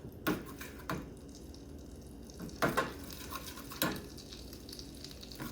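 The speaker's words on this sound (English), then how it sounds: "I'm adding the half teaspoon of fennel powder into this and saute it a bit" Fennel powder sautés in a pan with a soft, low sizzle, interrupted by a few distinct stirring scrapes and clanks of a utensil against the pan, close and fairly quiet, with no voices.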